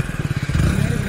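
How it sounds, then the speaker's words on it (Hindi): A motorbike rolls downhill with the engine off on a steep, winding mountain road at about 40 speed, giving a low rumbling, fluttering rattle of wheels and chassis close by, with voices present in the background. "बाइक जा रही बंद रखी कर आराम से जा रही गुड़ती गुड़ती"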